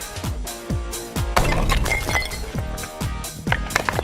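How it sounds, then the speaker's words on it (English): A sledgehammer repeatedly smashing sturdy drinking glasses, sharp crashing impacts about every half second with glassy shattering and clinking between blows, loud and close. "what about smashing them with a sledgehammer?"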